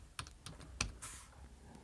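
Keys clatter on a computer keyboard while a short piece of HTML code for a file upload page is typed into a notepad; a few separate clicks and short bursts, close and fairly quiet, with no talk.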